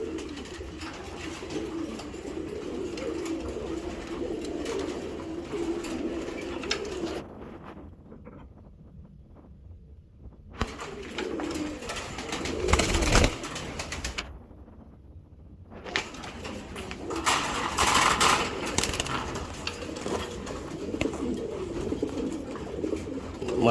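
A male racing pigeon coos in repeated soft, throaty phrases close by, with intermittent rustling and background noise and a few quiet gaps.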